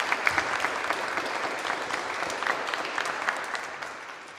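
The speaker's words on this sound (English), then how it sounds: "Can I please have a very warm round of applause for our panel?" A warm round of audience applause for a public sector leadership panel, with steady dense clapping filling the room throughout and sharper individual claps standing out near the start.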